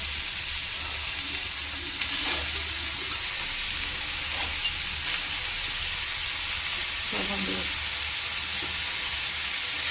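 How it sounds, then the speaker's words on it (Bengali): Shredded cabbage sizzles in a pan with a little oil while being cooked as momo filling, giving a steady, close hiss broken by occasional soft stirring knocks. "দেখতেই পাচ্ছ খুব সামান্য তেল দিয়ে ভেজে নেব। এরপর আমরা বাঁধাকপিটা দিয়ে দিচ্ছি।"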